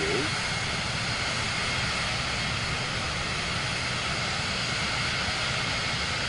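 An airliner in Microsoft Flight Simulator 2024 on approach to Orlando, Florida, produces a steady, loud, unbroken engine roar and cabin hum with no change in level.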